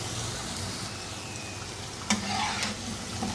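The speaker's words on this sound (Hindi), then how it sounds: "इनको नाइस गोल्डन कलर में फ्राई कर लेंगे।" Spicy French fries fry in oil in a pan, a dense, even sizzle up close with a quick clink of a utensil midway, no talk.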